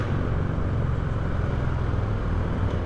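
Harley-Davidson motorcycles, a Sport Glide and a 2018 Road Glide, ride through a tunnel, their engines a loud, steady, enveloping low rumble that holds without a break.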